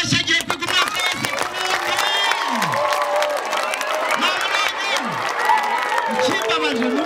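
An audience at a concert in Sake, Ngoma, applauding and cheering in a loud, dense crowd roar with sustained clapping, while voices shout over it throughout.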